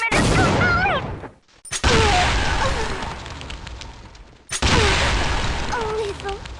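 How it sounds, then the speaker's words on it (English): Explosion test in the game Counter-Strike Nexon: loud roaring blasts fill the whole range, one after another with brief gaps between, and a voice with bending pitch sounds across the first blast. "Here goes the explosion test!"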